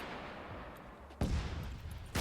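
Two rocket launcher shots in the Arma 3 military game, each a sudden loud booming blast with a rushing tail, the first after a quiet moment and the second about a second later.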